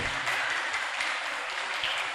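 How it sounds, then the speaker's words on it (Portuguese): A church congregation at a celebration service claps together, a dense, steady wash of applause from a large room, fairly even in loudness throughout. "Aplauda ao Senhor."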